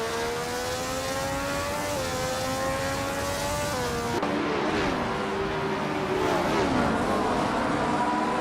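A Brabham BT7 race car engine drones in a racing game, a sustained buzzing whine with shifting pitch that drops at a gear change and then climbs again, steady and close throughout.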